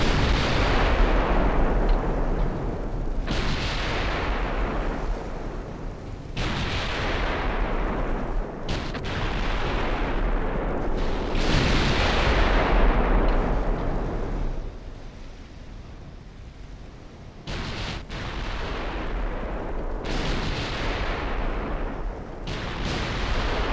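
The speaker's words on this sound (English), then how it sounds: "it was only the guns from the front cruiser" Heavy cruiser guns fire in a naval battle in Ultimate Admiral Dreadnoughts, a game set with Japanese Empire ships: a string of loud, booming blasts roughly every three seconds, each rolling off into a rumbling tail.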